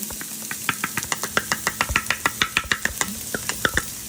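Red onions sauté for jumbo shrimp pasta in a pan, a soft continuous sizzle punctuated by rapid, regular scraping strokes of a utensil stirring, close and fairly loud with no voices.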